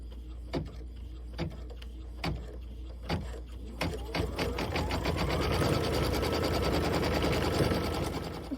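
A sewing machine at a quilting project makes a few single slow stitch thumps, then speeds into a fast, steady run of rapid needle clatter, up close and moderately quiet.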